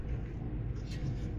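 Steady low rumble of a car interior while driving along a coastal road toward the sea on a cold winter day, continuous engine and road noise with no pauses.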